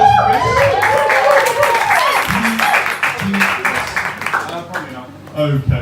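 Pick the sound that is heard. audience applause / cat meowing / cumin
audience applause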